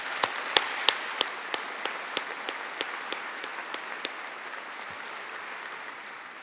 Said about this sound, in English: May I please have a round of applause for this special group of leaders.